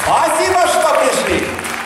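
Audience at a comedy juggling show applauding loudly, a dense, steady wash of clapping that fills the whole moment.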